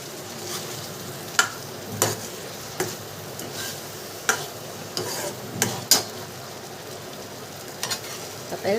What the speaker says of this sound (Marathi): मसाला भरून मस्तपैकी मसाला थोडासा फ्राय करते